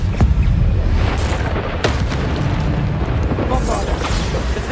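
Bombarda spell explosions boom in Hogwarts Legacy, loud low-heavy blasts repeating over dense continuous combat noise, with a voice talking over them.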